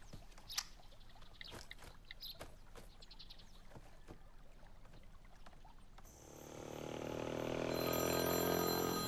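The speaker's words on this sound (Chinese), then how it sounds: "你手机响了" A mobile phone starts ringing about two-thirds of the way through, a bright, steady electronic ring that grows louder to the end. Before it there is only vehicle and road noise with scattered clicks.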